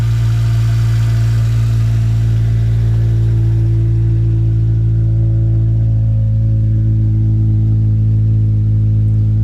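Honda S2000 engine running steadily near by, a loud, deep, throaty hum that holds even with a slight dip in pitch partway through, no voices.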